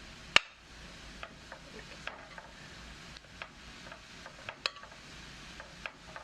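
Leftover cold rice and vegetables stir-fried in a pan give off a low steady sizzle, with a sharp spatula clack at the start and scattered scraping taps throughout, close and quiet.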